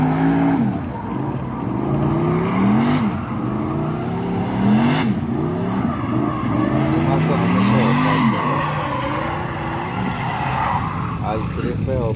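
Cars drifting at an open-day event on a Riyadh motorsport track, engines roaring steadily while tires squeal in repeated rising sweeps, loud and continuous throughout.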